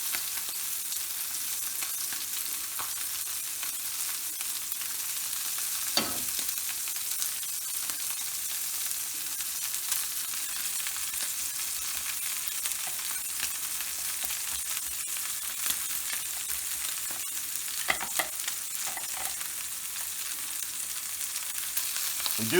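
Steak frying steadily in a pan with bits of onion and garlic, a dense continuous sizzle with occasional louder crackles and spits, close and alone without talk.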